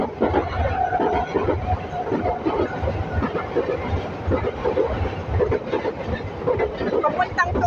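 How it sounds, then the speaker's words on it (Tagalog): An airport express train runs along the track near Sunny Bay on Lantau Island, a steady loud rumble with rolling wheel noise throughout, overlaid by a voice talking. "Ito express train. Ayan. Galing airport."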